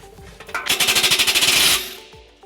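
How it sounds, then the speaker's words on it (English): An impact wrench with a 15mm socket loosening a muffler clamp on a 2014 Nissan Altima: one close, loud, rapid hammering burst of about a second that spins down quickly. "we're going to loosen up this clamp right here using a 15mm socket."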